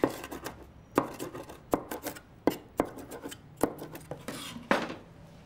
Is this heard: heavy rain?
no